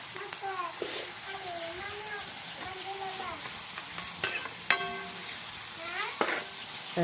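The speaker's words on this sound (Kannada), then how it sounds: "ನಾ ಉಳ್ಳಾಗಡ್ಡಿ ಟಮಟೆ ಹಾಕಿ ಖಾನೆ ಹೊಡತ್ತೀನಿ ರೀ" Onions and tomatoes fry and get stirred in a pan in a village kitchen. A steady sizzle runs throughout, with occasional scraping stir clatters, under ongoing talking and a voice.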